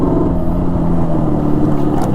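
A Yamaha RD 350 HT motorcycle engine running steadily while riding, giving a loud, continuous drone with no pauses throughout.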